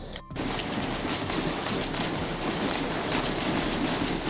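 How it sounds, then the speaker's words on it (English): Heavy rain falls in a dense, continuous hiss that stays loud and even throughout, with no voices. "it's raining cats and dogs"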